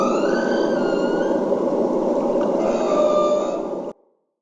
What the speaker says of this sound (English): This is a whale's song played with a ship's engine in the background.